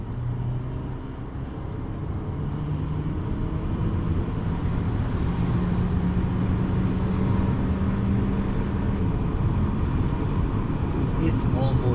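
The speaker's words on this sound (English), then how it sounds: "Let's try and accelerate now with the normal mode on." A 2018 Volkswagen Tiguan 1.4 TSI 4Motion accelerates in normal mode, its engine heard from inside as a steady drone with a slowly rising tone over constant road rumble.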